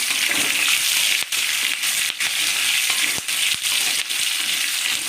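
Capsicum sautéing in a pan for a Tamil-style capsicum thuvaiyal with urad dal, a steady loud sizzle and crackle of frying with a few brief dips, no talking.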